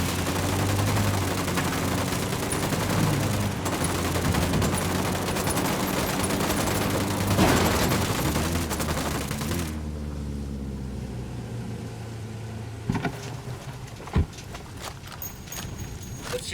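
Gunfire in the tactical shooter game Ghost Recon: Wildlands, a dense clattering fusillade of rapid shots for about ten seconds, then a quieter stretch with a few sharp isolated cracks and scattered thuds.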